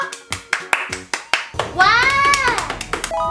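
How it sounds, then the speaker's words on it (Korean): Children clapping their hands in unison in a kindergarten classroom, a crisp run of loud, close claps followed by excited children's voices with a few more scattered claps. "박수 세 번 시작."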